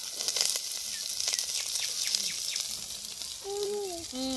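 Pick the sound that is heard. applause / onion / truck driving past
onion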